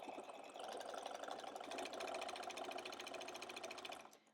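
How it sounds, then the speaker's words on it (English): A sewing machine stitching a quarter-inch seam joining quilt pieces, a steady close whirring hum with a rapid needle rhythm lasting about four seconds before stopping abruptly. "we're just going to sew this together with a nice clean 1/4 inch seam"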